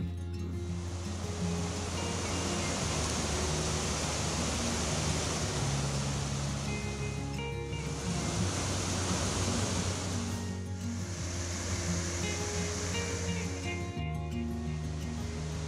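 Steady broadband roar of water pouring down the lower section of Whitewater Falls in winter, continuous and fairly distant, with a wind-like hiss and no speech.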